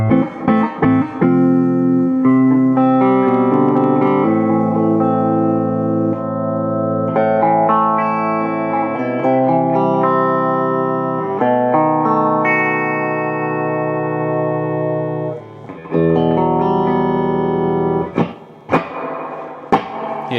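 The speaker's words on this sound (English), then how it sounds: "yeah, that reverb works." A repaired guitar amp plays sustained chords and notes through its working reverb. The tone is loud and ringing, with a wash of reverb tail and a few sharp strums near the end.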